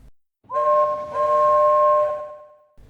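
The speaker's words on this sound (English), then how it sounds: "She heard the whistle again." A single sustained steam locomotive whistle on a miniature railway sounds, a steady multi-tone blast lasting about two seconds before fading away.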